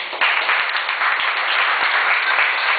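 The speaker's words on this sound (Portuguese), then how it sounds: "Assim seja, de salva de palmas." A church congregation at a pastor's consecration and installation service gives a round of applause after a prayer, steady, dense clapping throughout, with a muffled, band-limited quality.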